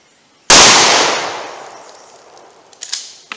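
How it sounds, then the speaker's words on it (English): A shotgun fires double-aught buckshot at a 25-yard target: one loud, sudden blast with a long fading tail, then a few small clinks and knocks afterward. "Double-aught buckshot from 25 yards."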